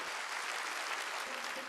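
A church congregation applauds steadily, a dense even clapping that fills the space for a short stretch without pause.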